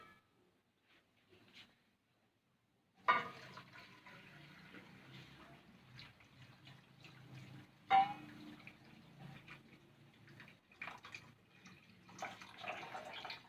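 Water poured into a pan of halwa while it cooks, a steady splashing pour under kitchen clatter, starting abruptly after a quiet moment with a couple of sharper clanks along the way.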